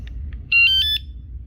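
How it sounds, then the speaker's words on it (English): A few faint chirps, then a quick series of four sharp electronic beeps from a kayak alarm arming itself, clear and close against a low background hum. "that's arming itself, and it'll beep now when it's armed"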